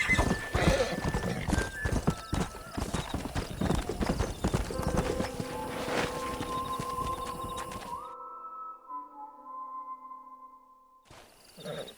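Horses gallop in the Western video game Red Dead Redemption, first with a rapid, loud patter of hooves, then a drawn-out whinny and quieter tonal sounds as the hoofbeats stop.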